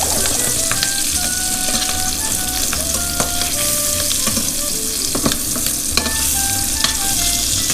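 Salmon searing skin-side in a hot pan as moisture cooks off: a loud, steady sizzle with sharp crackles and pops throughout, close up and without talk.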